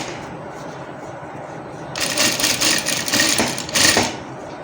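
Sewing machine stitching a men's shirt: a quiet start, then a steady run of rapid stitching for about two seconds, a short pause and a final brief burst, with no voices.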